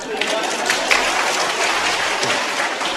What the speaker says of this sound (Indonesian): Tepuk tangan dulu itu paduan suara itu.